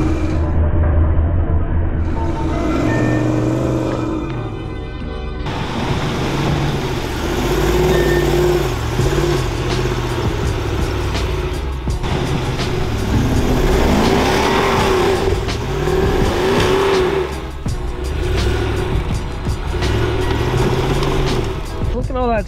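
A RAM 2500 HD Rebel pickup with a 6.7L Cummins diesel engine drives through sand, its loud engine droning and revving steadily close by throughout, with a person speaking over the noise at times.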